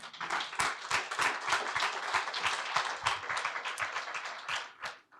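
Audience applause at a conference, a hall full of people clapping steadily and fairly close, fading out at the end.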